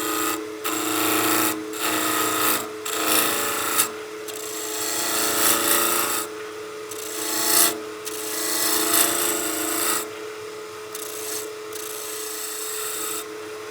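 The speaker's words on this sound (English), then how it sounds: "let's get our spindle roughing gouge and get this piece trued up and nice and straight across" A spindle roughing gouge trues up a wooden block spinning on a lathe, making loud, continuous rasping and scraping that cuts out briefly several times as the tool lifts off and re-engages.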